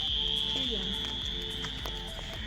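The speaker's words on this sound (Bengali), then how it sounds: "এই একেই ঝিঝি পোকা বলে" An insect, identified as a cricket, drones steadily with a high, unbroken chirring tone throughout, fairly close, with quiet speech and rustling underneath.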